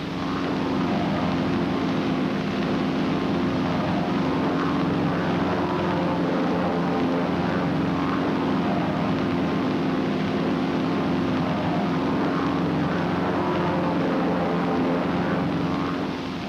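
Military aircraft flying in close formation in 1953 US Navy training footage produce a steady, unbroken engine drone, dense and constant at moderate loudness, with no voices over it.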